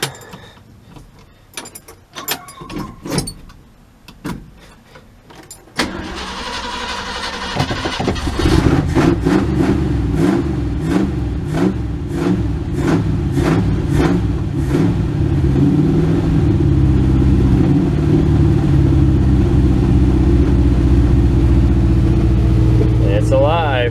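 A 1967 Ford Galaxie engine cranks with a rhythmic churning, catches and settles into a loud, steady running rumble close by, held at a raised idle, with people talking quietly before it starts.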